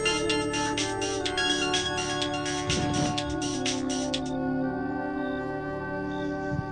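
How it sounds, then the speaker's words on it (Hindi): A phone ringtone plays a repeating electronic melody, steady and fairly clear, then switches to a sparser tonal pattern for the last few seconds. "लो, अब किसका फोन आ गया?"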